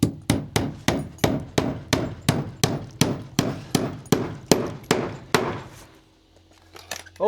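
A hammer drives a soaped nail into pre-drilled wood on a porch rebuild of an old Queenslander house. About fourteen loud, evenly spaced ringing blows arrive close up, then stop, followed by quiet.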